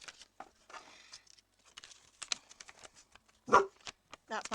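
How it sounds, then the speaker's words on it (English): A dog barks at things outside a window, giving one loud bark among scattered quiet indoor sounds and faint shuffles, fairly close by. "That's my dog, he's barking at stuff out the window."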